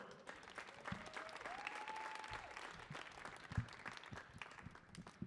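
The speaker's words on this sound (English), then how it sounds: "Let's have a big round of applause for her." Sustained applause from a theatre audience at the Kennedy Center, steady clapping throughout with some cheering and a brief whistle-like tone rising over it.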